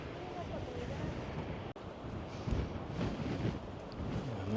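Strong coastal wind buffets the microphone on the Great Ocean Road cliffs near the Twelve Apostles, a rough, uneven roar with gusts and a brief dropout, surf faintly beneath.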